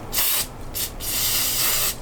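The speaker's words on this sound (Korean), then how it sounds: "이 스프레이는 여기다가 한번 뿌려볼까요?" Hair spray from an aerosol can, sprayed close by in three loud hissing bursts: two short blasts, then a longer sustained spray with clean gaps between them.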